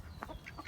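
Backyard chickens give a few short, soft clucks in quick succession, somewhat distant and quiet against a low background rumble.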